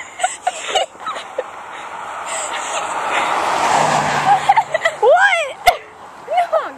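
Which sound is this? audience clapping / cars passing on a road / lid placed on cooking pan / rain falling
cars passing on a road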